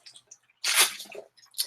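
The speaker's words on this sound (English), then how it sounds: "I need to drink some water" Someone drinks water in a quick sequence: a few small wet clicks, then a loud slurping gulp, followed by softer mouth sounds and a short breathy swallow, close up.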